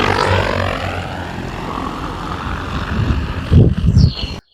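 Agricultural spraying drone flying over farmland, its propellers giving a loud, close buzzing whine that wavers and swells before cutting off abruptly at the end.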